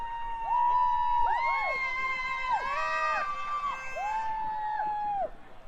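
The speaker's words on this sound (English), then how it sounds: "noises coming from the crowd. They've got these horns that they use quite a bit." Crowd at a cricket semi-final match blowing horns, overlapping wavering blasts that rise and fall in pitch over a continuous crowd murmur, fairly distant.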